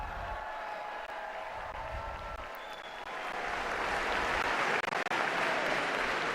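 A packed crowd in the Paul VI Hall at the Vatican applauds Pope Francis during a General Audience. Dense, sustained clapping fills the large hall and swells louder midway.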